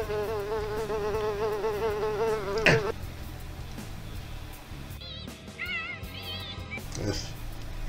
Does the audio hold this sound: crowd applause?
no